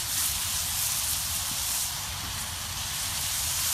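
Bacon frying in a pan for a Christmas breakfast gives off a steady, close sizzling hiss with fine crackle, continuous and fairly loud throughout, with no voices.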